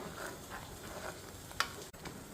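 Spice paste spluttering and sizzling in a frying pan while cooking a cashew tomato paneer curry, a steady close crackle with a few sharper pops and no talk.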